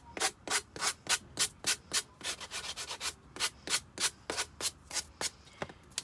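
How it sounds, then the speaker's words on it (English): A wooden sign board's edges being hand-sanded in quick, even back-and-forth strokes, close up and steady, around twenty rasping passes with no talking. "So I'm just going down over the edge here, just making sure that I have all of this sanded down."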